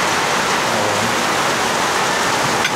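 Steady rain falling in Quiapo, Manila: a dense, continuous hiss of drops that stays loud and even throughout, with no talking.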